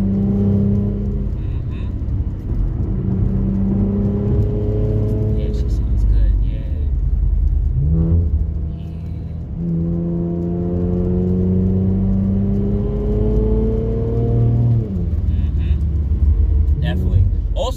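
An Infiniti Q60 with an AAM 3-inch true exhaust accelerates hard from inside the car, the engine rising in pitch through gears with loud droning revs and brief shift dips.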